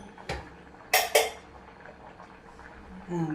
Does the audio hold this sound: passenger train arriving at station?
no